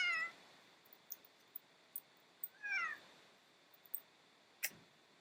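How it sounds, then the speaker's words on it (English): A pet cat meows twice, a short call at the start and a clearer, longer one near three seconds, heard close and fairly quiet in a still room with small clicks and a sharp tap near the end. "this is my kitty."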